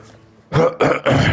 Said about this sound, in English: If y'all hear me coughing a lot, please, like, don't mind me.